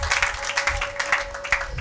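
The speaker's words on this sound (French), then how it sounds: "Acclamez pour la gloire de notre Dieu, de notre Seigneur." Church congregation applauding during a French-language sermon, quick irregular hand claps close and lively, with a steady tone running underneath.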